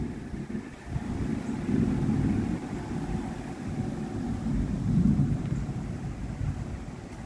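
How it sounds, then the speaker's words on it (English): Low rumbling thunder rolls through a thunderstorm with wind, swelling and fading in long steady waves, loudest around the middle and near the end, with no voices. "I love thunder and lightning, but it gets me a little scared."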